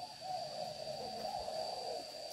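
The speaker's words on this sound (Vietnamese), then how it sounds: "Con này tơ đang tập gáy." A young cu gáy bird practises its call, a faint, drawn-out soft coo held steadily over quiet outdoor background noise with no talk.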